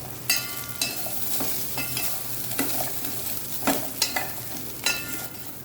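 Ingredients for coconut chutney, with tamarind added, fry and sizzle in a pan under repeated scraping stirs, with sharp clatters recurring every second or so against a steady hiss.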